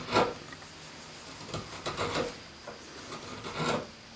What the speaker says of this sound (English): I round it over and do that with a chisel